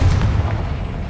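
A Confringo spell blast in a wizarding video game lands as a heavy low boom, loud and close, then rumbles off over about a second with no voices.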